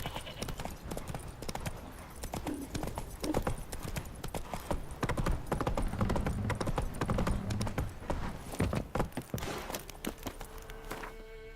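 Hooves of Roach, the horse in The Witcher 3 video game, clip-clop in a quick, steady rhythm, close and clear, running on without pause.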